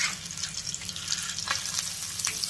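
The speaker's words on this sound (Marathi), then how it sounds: "तवा गरम करून त्याच्यावरती तेल सोडून आपल्याला हे कटलेट असे फ्राय करून घ्यायचे आहेत।" Paneer veg cutlets fry in oil on a hot tawa, a steady close sizzle and crackle with small popping spatters throughout and no voices.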